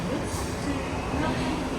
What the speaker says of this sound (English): my train is now pulling in Platform 16